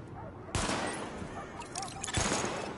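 Weapons fire at highlighted targets during a weapon test in The Division, with two sharp, loud shots standing out against a background of rapid crackling gunfire.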